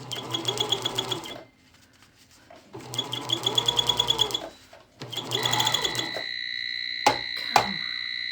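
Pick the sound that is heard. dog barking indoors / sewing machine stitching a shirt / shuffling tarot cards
sewing machine stitching a shirt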